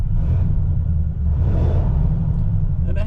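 A 1941 Cadillac Series Sixty V8 idles close by with a steady, deep low rumble. The engine note stays even for about three seconds, and no one speaks over it.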